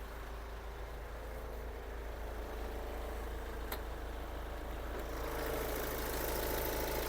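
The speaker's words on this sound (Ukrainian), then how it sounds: "Двигун працює чітко" A Hyundai Santa Fe 2.2 CRDi diesel engine idles close by, a constant low rumble with a faint clicking texture running throughout, no voices.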